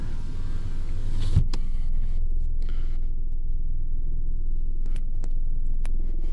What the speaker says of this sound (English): these back windows go all the way down